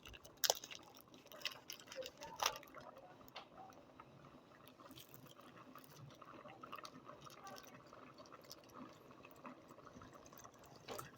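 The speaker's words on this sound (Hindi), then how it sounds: "दूध को बड़ी एहतियात से डालेंगे।" Milk is poured slowly into a pot already holding sugar, rice and grated carrots for carrot kheer; a faint, soft liquid trickle runs throughout, with a few small knocks near the start.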